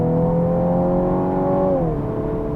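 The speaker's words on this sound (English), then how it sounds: "the exhaust has a nice tone to it when you get on the throttle" Turbocharged 2017 Mini JCW Clubman exhaust under acceleration, a loud steady rising drone that holds its pitch, then drops as a gear changes near the end, with no talking.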